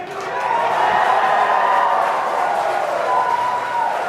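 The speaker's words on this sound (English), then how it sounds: "you can hear some really loud cheering in the room" A room of people at SpaceX Hawthorne breaks into loud, sustained cheering and whooping that swells quickly and holds, a dense crowd roar with no single voice standing out.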